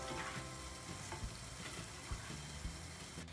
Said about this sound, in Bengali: ঘুরিয়ে ঘুরিয়ে সব পাশ সমানভাবে ভেজে নিতে হবে।